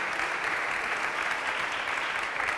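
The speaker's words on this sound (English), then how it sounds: "A big clap for them." An audience at a hackathon prize ceremony claps for the winners, a dense, even roar of many hands lasting a couple of seconds with no voices over it.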